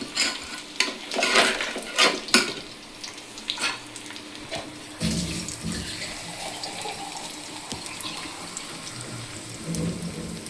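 Curry leaves frying in a tempering for sambar, crackling and sizzling up close, with a few loud pops and scrapes early on before the sizzle settles into a steady, softer hiss.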